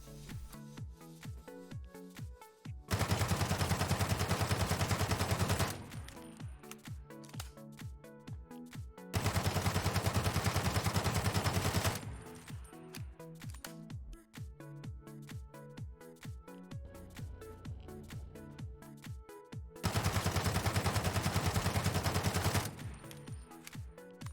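Bursts of automatic fire from a SCAR-H rifle in the video game Ring of Elysium, three long loud sustained volleys of a few seconds each, separated by quieter stretches with clicking and handling sounds.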